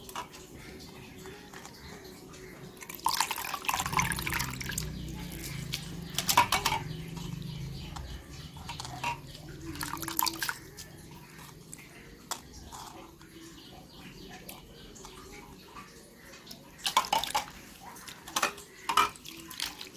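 Grated potatoes are squeezed and dropped into fresh water. Splashy sloshes come in a few separate bursts between quiet stretches, fairly close and soft.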